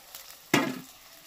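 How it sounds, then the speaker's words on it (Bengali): Chopped onion dropped into a hot pan for chicken do-pyaza, giving one sudden loud sizzling burst that fades over a fraction of a second, heard alone. "এই পেঁয়াজ কুচোটা লাল লাল করে ভেজে নিতে হবে, পুরো কড়া করে ভাজতে হবে।"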